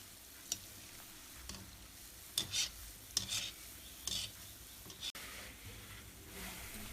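Gulab jamun balls frying over low-medium heat in a pan of oil, stirred now and then, give soft intermittent scraping and light clinks over a faint steady background sizzle.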